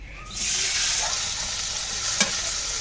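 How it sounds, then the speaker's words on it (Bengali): Small puti fish hit hot oil in a wok, setting off a loud, dense, steady sizzle that swells up after a quiet start and carries on close by, with one brief knock near the end. "তেলটা গরম হয়ে গেছে, দিয়ে দিচ্ছি মাছগুলো"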